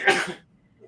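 A single sharp sneeze from a guest in a podcast-style sports talk setting, loud and close, bursting for about a third of a second before fading into quiet room tone.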